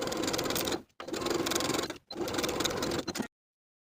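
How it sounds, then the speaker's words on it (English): Sewing machine stitching the side seams of a fitted pullover top, three steady runs of rapid close-up stitching separated by brief pauses, then silence. "we're going to sew a 5/8 inch seam allowance from the underarm to the dot transferred from the pattern"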